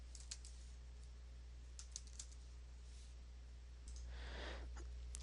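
Typing on a computer keyboard, with scattered light clicks and short bursts of keystrokes over a steady low hum, moderately close and with no one speaking.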